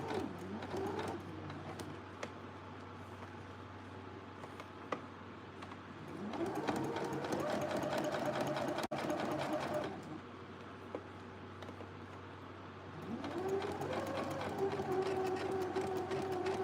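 A sewing machine stitches fabric in two bursts of steady whirring and rapid mechanical clatter, separated by quieter pauses filled with low hum and small handling noises, close by with no talking.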